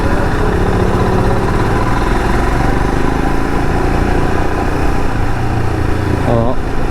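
A Royal Enfield Himalayan BS6 motorcycle, 2020 model, runs steadily with a continuous mid-range engine drone throughout, close and loud, with a brief higher whine near the end.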